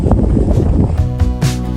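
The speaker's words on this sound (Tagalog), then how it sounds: "Lakas pa ng hangin, no?" Strong wind buffets the microphone at Lake Tabeo campsite in Kabayan, Benguet, a loud, continuous low roar with gusty surges and rustling bursts throughout.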